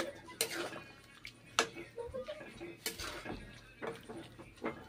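Chicken being stir-fried in a kadai with chopped coriander leaves, a spatula scraping and clattering against the pan in uneven bursts, close and fairly loud, with a voice talking over it at times.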